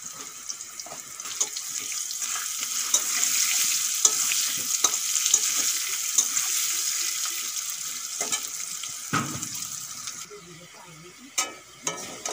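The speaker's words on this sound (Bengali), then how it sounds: "আলু ভাজা হয়ে গেছে, এখন তুলে নেব।" Potatoes frying in oil in a pan with turmeric and salt, giving a steady close sizzle and repeated stirring scrapes, with a few sharper knocks and a quieter stretch near the end.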